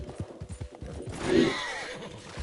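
In the video game Red Dead Redemption 2, a horse's hooves clop rapidly in a gallop, then a single loud neigh rises clearly over them. The galloping continues underneath at moderate volume.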